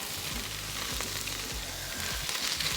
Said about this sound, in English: Now onion and garlic is golden now